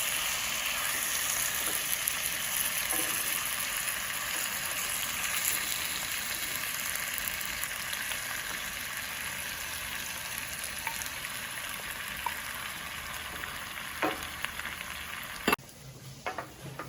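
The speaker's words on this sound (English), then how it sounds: "We're gonna fry them along with those chiles, just to get the juices out." Tomatoes and chiles fry in a pan for birria tacos, giving a steady, close hiss and sizzle with occasional stirring clinks and a sharper clatter near the end.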